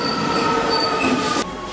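Rome metro train arriving at a station, its wheels letting out a loud, sustained high-pitched squeal over steady rumbling rail noise, cutting off abruptly near the end.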